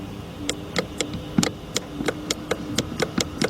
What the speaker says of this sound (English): Now if you listen closely over here, you can actually hear some kind of clicking going on.